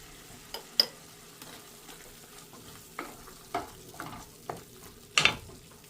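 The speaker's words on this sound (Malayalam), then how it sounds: "ഇതുപോലെ ഒന്ന് വഴിച്ച ശേഷം ഞാനിവിടെ സ്വല്പം മുളക് കൂടി ഇട്ട് കൊടുക്കുവാണ്" Coconut and chilli sauté quietly in a pan for chutney, a soft low sizzle broken by sharp intermittent clacks and scrapes of a spoon against the pan, close by and with no talk.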